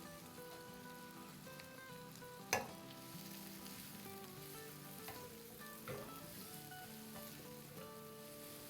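Cabbage sautéing in a pan over a high flame, a soft, steady sizzle and crackle with a couple of faint stirring clinks, quiet and close, with no one speaking.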